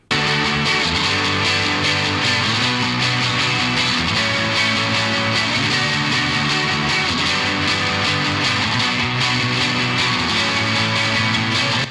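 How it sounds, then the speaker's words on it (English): A distorted electric guitar plays sustained, dense chords washed in reverb, loud and continuous with a spacious, lingering tail. "Then we'll hear the reverb and the delay on this guy. I'll kick the reverb on first."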